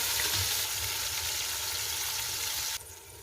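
Chopped tomatoes cooking in a pan for beef biryani, sizzling with a dense, steady hiss that drops suddenly quieter near the end.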